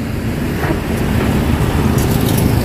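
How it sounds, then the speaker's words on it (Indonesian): Road traffic beside a Blok M mall in Jakarta, a loud, steady engine rumble and wind-like roar of vehicles passing close by. "Motor lewat sini sekarang."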